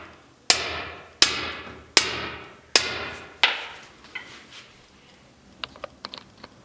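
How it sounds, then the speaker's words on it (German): Five sharp, ringing metallic strikes from a locksmith's hammer tapping a door latch recess, evenly spaced about a second apart, each decaying quickly, followed by a few lighter faint clicks. "Wir verkleinern sie, indem wir von hier gegenklopfen. Schlosserhammer,"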